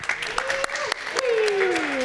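An audience applauding at a Solana Breakpoint 2023 conference session, steady dense clapping throughout, with someone speaking over it.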